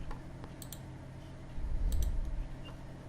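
A pair of sharp, quiet clicks from a computer mouse, a quick double click heard twice close together, against a faint low hum.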